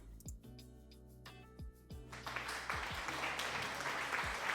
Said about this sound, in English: here's a little applause for Night Whisper.